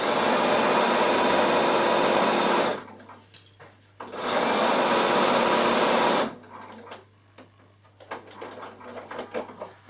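A Bernina sewing machine runs in two loud, sustained bursts of rapid stitching along a seam, with quieter handling clicks and rustling of material in between.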